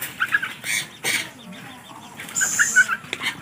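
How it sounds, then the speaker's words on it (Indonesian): Chirps and short calls from several small birds in a mini aviary, among them bulbuls, shrikes, weavers and a zebra dove, come in scattered bursts near the start and again toward the end over a low background hum. "Ini di dalam apiari mininya juga ada beberapa jenis burung."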